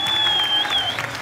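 Studio audience applause on a Tamil television game show, a brief burst of steady clapping from a crowd with a sustained electronic tone running through it.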